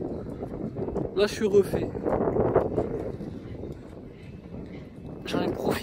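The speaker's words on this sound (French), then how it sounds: "Par contre, il y a beaucoup de vent." Strong wind buffets a microphone at Cannes harbour, a low rumbling roar that swells and gusts throughout while someone talks close over it.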